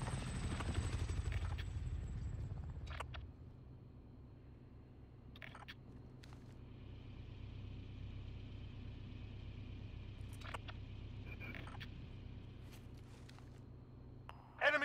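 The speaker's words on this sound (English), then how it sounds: "Supply chopper's inbound." Supply helicopter approaching in a first-person shooter match, a steady rotor drone with low rumble throughout, joined by brief clicks and game effects, fairly faint and distant.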